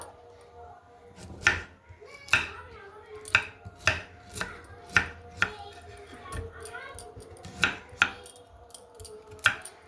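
Knife cutting and peeling elephant foot yam, a steady series of sharp, close chopping and scraping strokes roughly every half second, with faint kitchen clatter in between.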